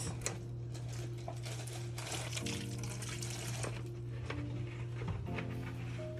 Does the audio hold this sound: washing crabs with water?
yes